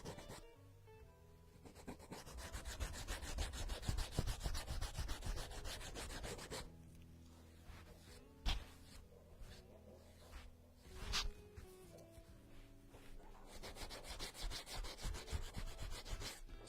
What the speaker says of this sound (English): sand, and I don't need to sand super hard.